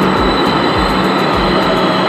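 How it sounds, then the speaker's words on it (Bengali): Kolkata Airport Metro train arriving at a new station, a loud continuous rushing roar with rhythmic low thumps as cars pass close by on the rails. "তো চলে এসছে মেট্রো, দেখতে পাচ্ছ"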